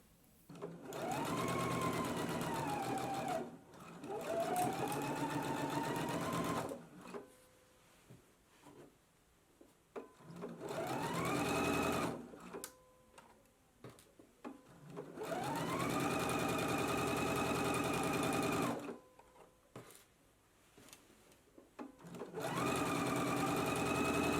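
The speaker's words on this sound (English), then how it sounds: "I'm going to go to the machine. We're going to stitch at a 3/8 of an inch seam allowance" A sewing machine stitches a jumpsuit seam at a 3/8-inch allowance in several bursts of steady whirring run, separated by short pauses, close and clear with no talk.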